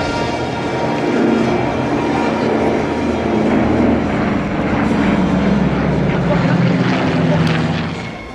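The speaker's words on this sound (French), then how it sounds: "Axel Valade vous montre comment cet avion était manœuvrant." A vintage propeller airplane flies a manoeuvring display at the La Ferté Alais air show, its engine a loud, sustained roar that swells and shifts in pitch for several seconds before easing slightly at the end.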